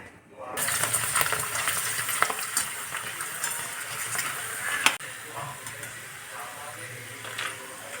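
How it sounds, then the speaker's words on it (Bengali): Papad frying in hot oil in a home kitchen, a continuous bright sizzle and crackle with stirring clinks, running steadily throughout with occasional sharp knocks. "পাঁপড় ভাজা হবে,"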